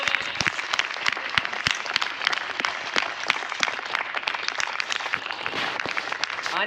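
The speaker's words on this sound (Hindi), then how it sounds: "जबरदस्त तालियां।" Crowd applause at a mega stage event in Samastipur, dense rapid hand clapping sustained evenly throughout, heard from a middling distance with no talking.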